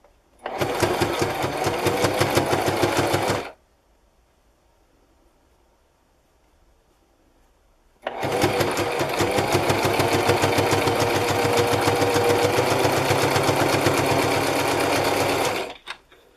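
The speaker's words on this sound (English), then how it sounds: "sewing the edge at the same time, sewing the uh, uh the lining, one side of the lining" A sewing machine stitches the edge of a face mask lining in two steady runs: a short burst of about three seconds, a pause of silence, then a longer continuous whir of around eight seconds, close and loud.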